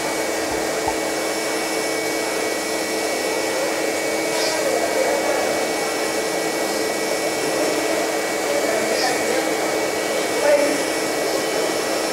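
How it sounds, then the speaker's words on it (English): A CNC grinder in a precision mold factory runs steadily while grinding punch pins, a loud continuous whirring hum with faint high squeals and no pauses. "This is our CNC grinder."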